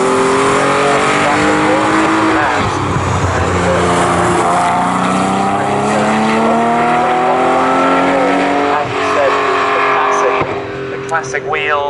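Porsche 911 964 race cars at Snetterton in a 911 Challenge race, engines droning and rising in pitch together as the pack heads into a corner, loud and sustained under continuous race commentary.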